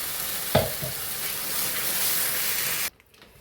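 Fried onions and masala stirred in a hot pan: a loud, steady sizzle with a knock of the spoon early on, then it cuts off abruptly near the end.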